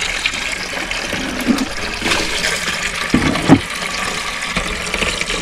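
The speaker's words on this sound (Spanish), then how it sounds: "Ahora sí le vamos a llenar de agua." A garden hose pours water into a container on a chicken-raising farm, producing a steady, loud rushing and splashing that continues throughout.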